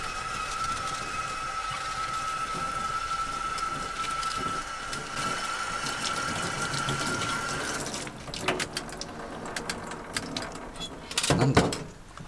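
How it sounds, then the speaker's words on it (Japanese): Stainless steel fire pit parts, including the fire box, fire sticks and ash tray, rinsed under tap water after washing, giving a steady continuous splashing stream that later breaks into irregular clatter and splashes near the end. "水ですすぎます。"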